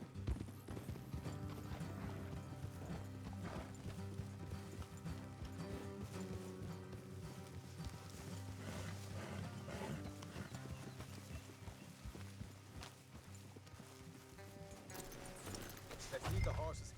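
Steady clip-clop of horse hooves trotting in the video game Red Dead Redemption 2, with a brief whinny and music playing underneath throughout; voices talk over it.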